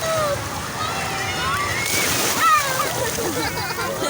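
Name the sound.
sea waves and splashing water at the beach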